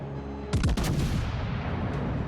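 Naval battleship guns fire at the enemy ship Schlieffen in a video game, a loud booming salvo of several close overlapping blasts with a sharp onset, followed by a rumbling decay and low background hum.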